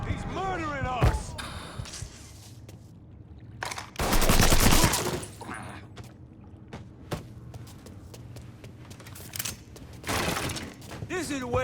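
Mafia III gameplay brings bursts of gunfire, a loud crackling volley in the middle and more shots later, with impacts and a shatter, mixed under game voices.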